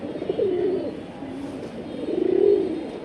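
Caged pigeons kept for sale and breeding coo in low, rolling phrases, with a clear burst early and another swelling near the end, close and moderately loud over a faint background hum.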